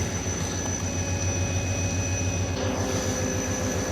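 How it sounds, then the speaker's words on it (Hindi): Pak Business Express 34 Down train, led by a GU40 locomotive, rumbles steadily past a waiting train at Mehrabpur railway station while overtaking, a continuous low rail roar with a faint high whine throughout. "सामने आ रही है 34 डाउन पाक बिजनेस एक्सप्रेस, जो कि ओवरटेक करने लगी है"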